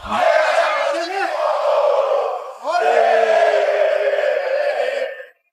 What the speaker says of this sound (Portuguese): a torcida que canta e vibra apoiou incondicionalmente.